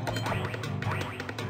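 Geese in the game Adventure Story let out rapid, nasal, quacking honks. The calls come close together in a busy, repeated burst with no talking.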